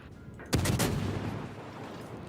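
Ship guns fire in World of Warships, a sharp sudden volley of blasts with a booming tail that rolls and fades over the next second or two.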